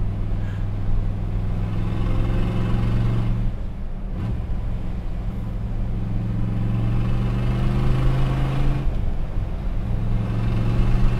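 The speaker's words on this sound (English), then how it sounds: "there's nothing quite like hearing that exhaust note right in your ear" A Ford Mustang GT350 engine rumbles loud and close with a deep, throaty exhaust note, briefly easing off twice as revs shift.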